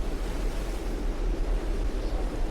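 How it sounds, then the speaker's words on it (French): Muffled, steady wind swirling around someone, as in a tornado, a dense low rumble with a continuous hiss over it, constant and enveloping, with no voices or other sounds. "toujours le bruit sourd du vent qui l'entoure"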